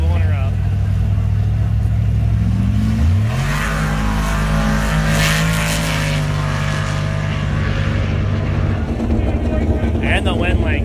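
A diesel Chevy Blazer at a drag race spools up loudly nearby, its low engine drone rising in pitch and holding steady, with crowd and announcer noise in the background.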